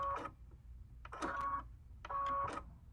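A sewing machine runs in three short bursts, each lasting about half a second, as it stitches a quarter-inch seam on a folded quilt binding. The whirring motor sounds close and fairly quiet.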